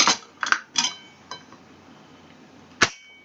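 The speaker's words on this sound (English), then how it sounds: "I guess I'll cut this with a knife." A knife cuts into an Aldi Specially Selected milk chocolate truffle egg with a cream filling, giving a few sharp clinks and taps near the start and one crisp click near the end, close and alone with no talk.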